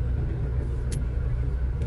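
Steady low rumble of road traffic heard from inside a moving car in the Philippines, continuous and fairly close, with a couple of faint brief higher noises and no talk.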